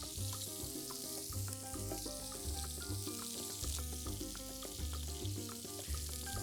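Pork loin searing in a hot pan gives a steady, close, continuous sizzle and crackle that holds at an even level throughout.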